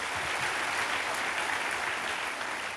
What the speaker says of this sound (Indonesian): Kasih tepuk tangan bagi Tuhan Yesus.